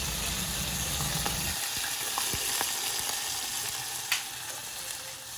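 Green chillies and a handful of curry leaves hit hot oil for a dhokla tempering, opening with a loud crackling burst that settles into a steady, close sizzle, with one light clink of a utensil near the end.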